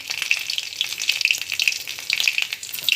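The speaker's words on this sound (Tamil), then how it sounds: "ஸோ கடுகு அண்ட் தென் சீரகம் வந்து போட்டுக்கலாம். சீரகம் வந்து நல்லா பொரியட்டும்." Mustard seeds and cumin fry in hot oil for a pregnancy-diet recipe, giving a steady close sizzle with many small crackling pops that continue throughout.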